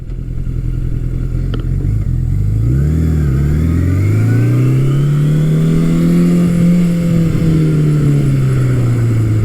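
A vintage Suzuki GS750 motorcycle with stock airbox and stock exhaust revs loudly up and down, its engine note sweeping through the rev range close by, with no talk.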